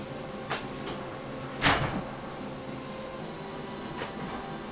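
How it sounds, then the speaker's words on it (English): A wooden drawer, custom-built with through Domino tenons, is pushed into its undermount slides, giving one sharp sliding knock amid quiet room noise, with fainter clicks before and after. "and then we just put the drawer in"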